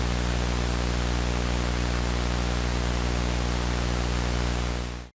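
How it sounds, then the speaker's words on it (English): Steady, dense static hiss with a low hum underneath, constant and loud throughout, then cutting off abruptly at the end. "You have this static control, which generates synthesized noise."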